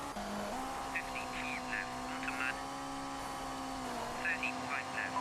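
Rally car engine in Colin McRae Rally 2.0 held at steady high revs with turbo boost engaged, a continuous droning hum with a brief pitch dip and recovery, heard under a commentator talking over the game.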